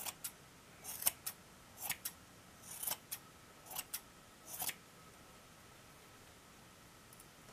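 Scissors snipping through yarn while trimming a large crocheted pom-pom, a series of crisp, close cuts spaced irregularly about every half second, quiet otherwise.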